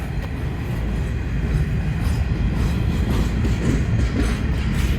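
A coal train hauled by Class 93 locomotives rolls past near Greta, a loud, steady rumble with rhythmic clickety-clack of wagon wheels and faint squeals throughout, close and continuous with no voices.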